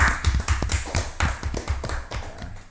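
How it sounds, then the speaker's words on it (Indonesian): A short burst of hand clapping greets a guest on an Indonesian podcast, with quick uneven claps from a few people, close and fairly loud, and no talking over it. "Tepuk tangan, guys."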